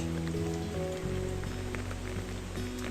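Rain falls steadily on the stone terrace of a mountain hut in the Beskid Śląski, a soft, even patter close by with a few louder drips and no voices.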